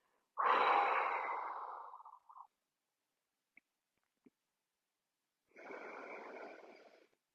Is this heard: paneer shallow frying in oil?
no